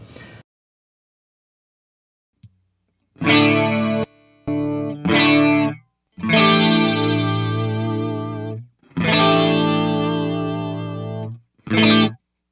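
Several sustained instrument notes and chords drenched in a shimmering Roland Dimension D rack chorus effect, separated by brief silences, fairly loud and close.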